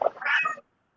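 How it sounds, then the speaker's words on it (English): A house cat gives a single short meow, close and clear, rising then fading after about half a second into silence. "Oh, so kitty."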